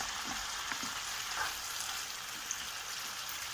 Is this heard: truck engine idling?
no